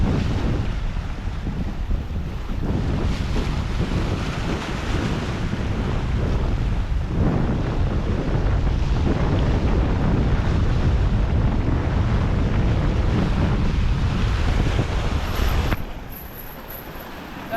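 Sea waves surge and break along a coast near Mumbai under heavy buffeting wind noise, a loud, continuous roar that eases slightly near the end.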